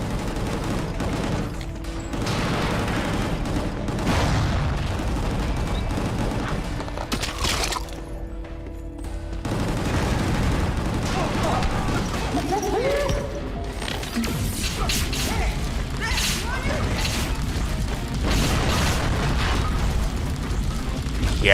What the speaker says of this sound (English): some of these demo shots absolutely destroy enemies